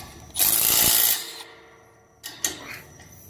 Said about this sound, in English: I'm going to crank down on this bolt here, and it should pull everything straight